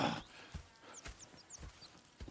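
Horses in the video game Red Dead Redemption 2 clop along steadily with soft hoof beats, faint and close, with a few high squeaky chirps above.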